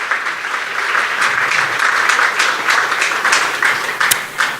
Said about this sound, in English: Yes, you can give her a round of applause.